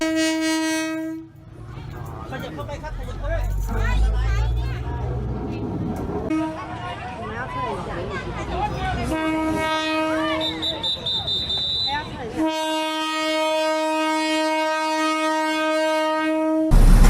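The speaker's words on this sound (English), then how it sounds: "There's a train in Thailand that goes straight through a marketplace." A train rolls straight through a busy Thai marketplace, its horn sounding in long steady blasts while wheels rumble and clatter close by, with crowd chatter and market bustle mixed in.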